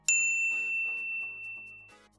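A notification bell gives one bright, sharp ding that rings on with a clear fading tone, followed by faint soft music underneath.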